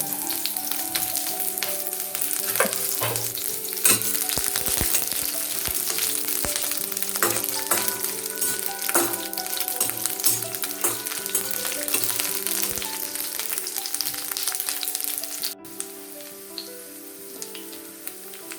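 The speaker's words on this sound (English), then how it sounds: "In go the florets of cauliflower." Cauliflower florets fry in a pan with a steady, close crackling sizzle, with stirring scrapes and low background music, fading slightly near the end.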